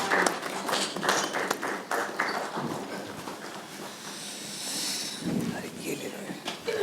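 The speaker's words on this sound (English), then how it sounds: "Let us give Professor Hasnain a big round of applause" A standing audience at a book launch gives Professor Hasnain a round of applause, with scattered, moderately loud claps and a speaking voice over parts of it.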